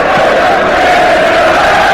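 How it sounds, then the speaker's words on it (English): Liverpool fans roar and cheer throughout an Aston Villa football stadium during a night match, a dense, steady crowd noise with no break. "in front of the Liverpool fans, applauding everything that their team, the men in cream as they are tonight, do"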